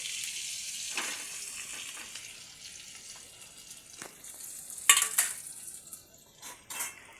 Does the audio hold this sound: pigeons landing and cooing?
no